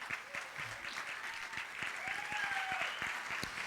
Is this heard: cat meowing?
no